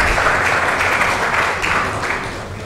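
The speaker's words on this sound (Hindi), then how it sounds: "जोरदार तालियां मैम के लिए" Loud, dense audience applause at a live awards-night open mic event, steady clapping filling the room for a few seconds before tapering slightly, with no voice over it.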